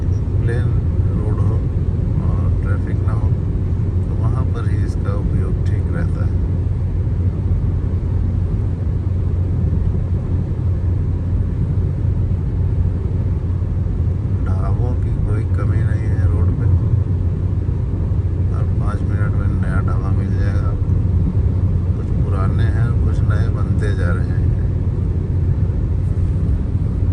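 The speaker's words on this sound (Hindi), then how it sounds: "94 की स्पीड पे हमारी गाड़ी लगातार चलती रहेगी" A Maruti Grand Vitara holds a steady 94 km/h on cruise control along an open highway, giving a constant low road and engine rumble inside the cabin, with people talking over it.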